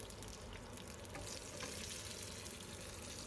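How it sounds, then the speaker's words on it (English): Whole chickpeas fry in spice-flavoured oil, a dense steady hiss and crackle close by, with faint scraping as they are stirred around to coat them. "now we are adding my whole chickpeas"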